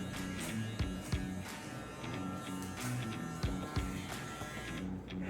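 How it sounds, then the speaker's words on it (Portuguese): An electric hair clipper trims the side of a man's beard in straight downward strokes during a full beard-care session, giving a steady close buzzing hum with small shifts in pitch as it moves through the hair. "desço com a máquina com o movimento reto"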